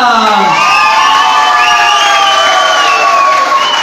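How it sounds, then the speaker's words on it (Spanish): Loud crowd cheering and shouting with applause at a Bolivian carnival coplas contest in Madrid, a dense, sustained roar of many voices with whoops throughout, no pauses. "Así que vamos a hacer los aplausos"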